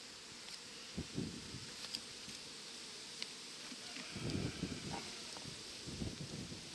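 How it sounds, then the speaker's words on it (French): A soft, continuous buzz of many honeybees hums close by in an open hive during an inspection, with occasional rustling and handling noises rising and falling. "Alors là, il y a beaucoup plus d'abeilles."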